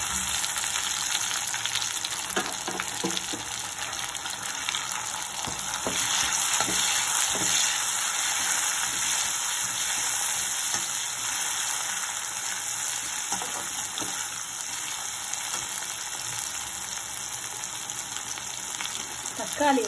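Shallots and tomatoes sauté in a pan for egg kurma, a steady broad sizzle with occasional stirring scrapes running continuously at moderate level.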